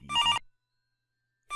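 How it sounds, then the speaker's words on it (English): Phone ringtone jingle, a short bright melodic burst of ringing that cuts off into silence before starting again at the very end. "His eyes narrowing whenever the phone jingle repeated."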